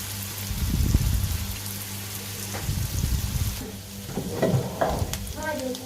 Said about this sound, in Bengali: তারপর এটা নেড়ে চেড়ে মিডিয়াম আঁচে ভাজা ভাজা করে নিব